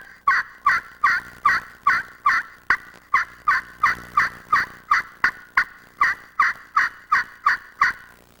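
Steady run of about twenty raspy gobbler yelps worked on a turkey friction call, evenly paced and loud, with a slower, lower-pitched rhythm, no voices.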